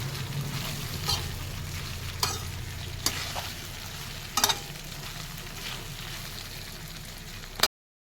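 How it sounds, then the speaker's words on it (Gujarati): Dhokla being tempered in hot oil gives a steady, close sizzle, broken by several sharp spoon clacks and scrapes against the pan, ending abruptly. "ઢોકળા વઘારાય છે"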